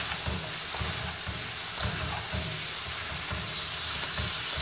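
Noodles sizzling as they are stir-fried in a pan, a soft steady hiss with rhythmic low scraping and tossing sounds repeating about twice a second.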